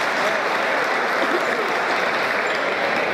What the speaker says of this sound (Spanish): yo creo que es muy merecido el aplauso del público para esta potranca